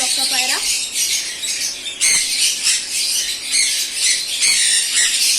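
Cockatiels in an aviary set above pigeon housing let out a loud, continuous mix of shrill squawks and chattering calls. The calls come close and overlap, with short bursts rising over the din.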